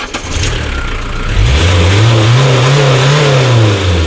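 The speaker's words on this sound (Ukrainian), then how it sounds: "машина заводиться вже як бритва. Включили зажигання, підождали." A Renault car engine cranks, catches and starts, then revs up and holds a loud rising and falling roar close by, with no talking.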